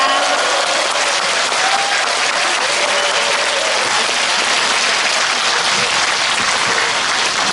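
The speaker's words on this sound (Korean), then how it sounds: "큰 박수로 스님 맞이해 주시기 바랍니다." A hall audience at an anniversary talk concert applauds loudly to welcome a Buddhist monk, a dense, even roar of many hands clapping at once that stays steady throughout.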